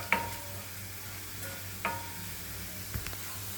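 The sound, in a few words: tempering with garlic sizzling in a pan for gongura dal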